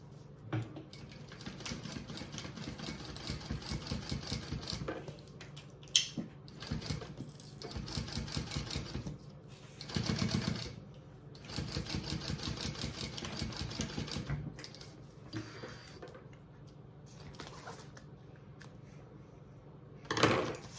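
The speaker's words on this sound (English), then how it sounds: "so I'm going to top stitch that" A sewing machine top stitches a fabric travel belt in several steady rapid runs, each a dense mechanical chatter, separated by brief pauses and small clicks.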